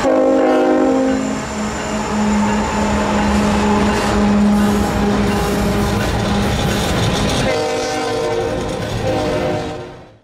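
Kansas City Southern freight locomotive 4175 climbs through the Rich Mountain area, its loud engine drone and horn blasts carrying over wheel and railcar rumble, with the horn note breaking off near the end.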